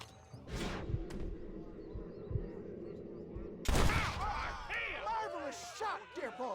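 Gunshots in a Red Dead Redemption mission, a sharp loud blast followed by echoing reports and scattered crashing effects, with speech-like game voices and a low ambient rumble throughout.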